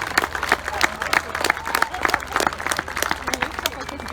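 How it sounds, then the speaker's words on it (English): Scattered applause and claps from an outdoor air show crowd honoring Oregon Air National Guard pararescue jumpers, uneven and moderately loud, with voices mixed in throughout. "Let's give them a big round of applause from your Oregon Air National Guard, the pararescue jumpers"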